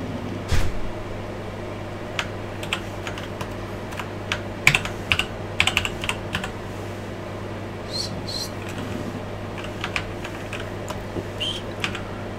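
Typing on a computer keyboard while setting up AMOS Professional on an Amiga emulator, scattered close key clicks in short irregular bursts over a constant low hum, with no talk.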